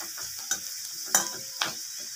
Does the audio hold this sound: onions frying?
yes